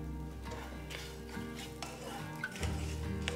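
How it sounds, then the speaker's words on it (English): Garlic, ginger and grated coconut roasting in a pan for an egg curry, with a soft steady sizzle and light scraping and clinking of a utensil stirring against the pan. "Roast the ingredients for about 1 minute after adding the coconut."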